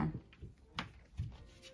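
An IKEA cabinet door on a 37 cm deep unit with replaced handles swings open in a home, giving a few soft wooden knocks and clicks spread over a couple of seconds, fairly quiet and close.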